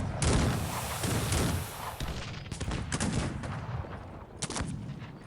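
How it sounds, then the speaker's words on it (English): Cannon and artillery fire in the Cossacks 3 strategy game, a dense run of booming shots and crackling volleys that overlap and keep going, loud and close, with no talking. "Crap, and there are the cannons."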